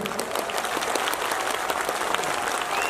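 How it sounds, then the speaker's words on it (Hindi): An audience at a poetry recital breaks into dense, continuous applause, heard at moderate loudness with no talk. "और संजय भाई, ये बजने वाली तालियां बता रही है कि सारे हाथ आपकी मोहब्बत के लिए उठे हैं"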